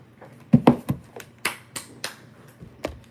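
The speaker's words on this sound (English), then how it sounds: "I don't know why I clapped." A few sharp hand claps and snaps, spaced irregularly, close and fairly loud in a quiet room, alone without talk.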